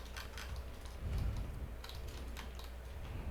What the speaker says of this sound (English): type 9 slash and enter in here